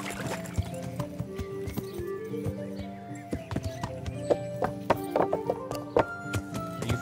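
A horse's hooves clip-clop in a rapid, uneven rhythm in the medieval video game Kingdom Come: Deliverance, with occasional whinnies and someone talking over the gameplay.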